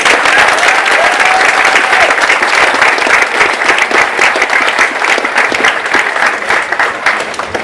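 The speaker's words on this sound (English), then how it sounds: "Let's give her a round of applause." Loud, sustained round of applause from a ceremony audience after a poem recital at a Saba Day event, dense clapping filling the whole stretch without letting up.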